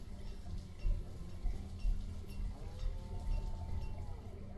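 Cows in the city-building video game Banished, with faint lowing and a soft cowbell-like clinking over a low ambient game background, no speech.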